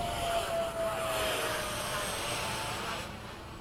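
An Avanti aerobatic plane, likely a radio-controlled model flying at a bayside field, whines steadily overhead with a thin engine tone that drifts in pitch, moderately near and fading slightly at the end.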